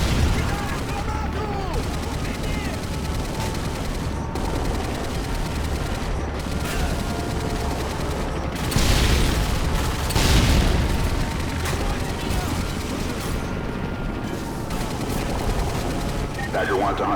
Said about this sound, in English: I like to think of this turret as my MVP of this mission. Always there, never complains, and shoots at everything that moves